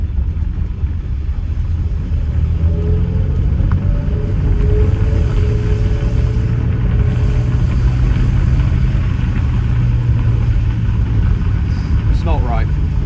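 A Mercedes-Benz W202 C180 Esprit engine runs with a faulty exhaust, giving a loud, steady, rough low rumble held at around 2000 rpm that sounds like an old banger, continuous and close.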